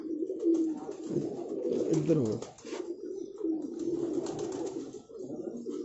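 Pigeons coo in low, rolling calls close by, repeating through the whole stretch while someone speaks briefly over them.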